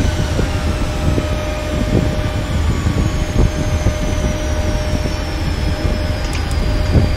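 Jet engine roar from thrust reversers on a PMDG 737NG after landing in a flight simulator, a loud, steady, broadband rumble with a faint high whine throughout, no talk.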